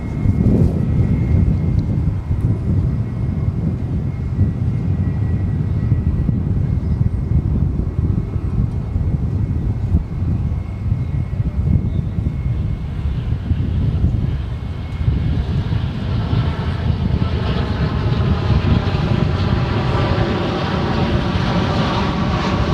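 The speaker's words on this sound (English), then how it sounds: "787-8 Dreamliner coming in from Tokyo Narita" An American Airlines 787-8 Dreamliner arriving from Tokyo Narita lands at Dallas Fort Worth, a loud, steady jet engine roar with wind buffeting the microphone that swells and shifts in pitch toward the end as the plane passes.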